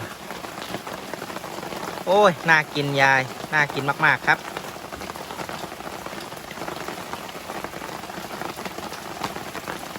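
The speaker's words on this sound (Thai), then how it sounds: "ต้องพูดเสียงดังหน่อยนะครับ เพราะว่าฝนตกหนักแล้วนี่" Heavy rain pours steadily onto surfaces outdoors in a constant loud hiss, while voices talk over it in the middle of the passage.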